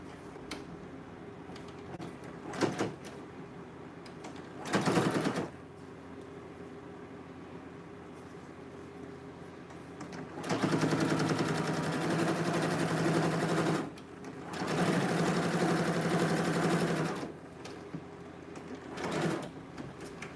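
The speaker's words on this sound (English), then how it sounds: "So I'm gonna be serging this" A serger sewing machine stitches a dress seam in several separate bursts, each running a second or a few seconds, with quiet pauses between them. The longer runs come near the middle, and no one speaks.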